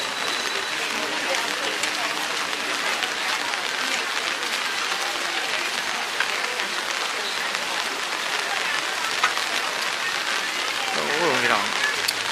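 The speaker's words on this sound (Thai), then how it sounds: "นี้ช่วงหนาฝนฝนตกครับ" Steady, dense hiss of heavy rain pouring down, continuous and fairly loud throughout, with faint voices mixed in underneath.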